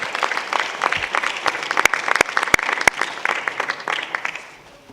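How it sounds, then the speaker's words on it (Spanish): An audience at an international culture awards ceremony applauds the winning cities, a dense burst of clapping with a few sharp, loud claps standing out, fading away at the end. "Les pido un aplauso para Lyon y Seongbuk, Corea"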